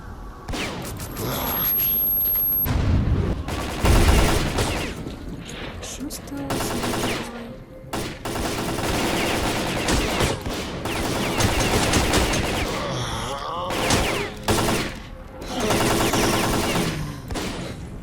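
Rapid bursts of gunfire in the video game S.T.A.L.K.E.R.: Call of Pripyat crackle and rattle almost continuously, with loud volleys and brief gaps, mixed with other in-game sounds.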